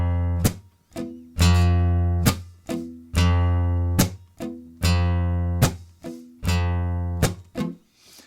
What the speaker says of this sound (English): I hit the bass note and it's literally palm hits the strings first, and then the pick comes after it